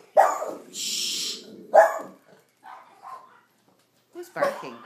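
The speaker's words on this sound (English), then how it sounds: "Who's barking?" Several sharp barks break out in short separate bursts, close and fairly loud, with a hissy noise and softer yelps in between.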